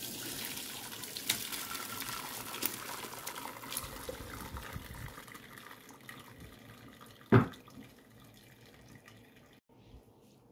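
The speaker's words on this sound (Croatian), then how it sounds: "Sada ću procijedim povrće." Boiled broccoli soup vegetables are strained, with a steady rush of water pouring and splashing throughout, close and fairly loud, and one sharp clunk near the end.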